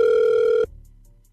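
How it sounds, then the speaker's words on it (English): A steady telephone dial tone hums loud and clear for about half a second, then cuts off abruptly into a faint fading hiss as a phone call is placed. "We're going to call Chrissy now"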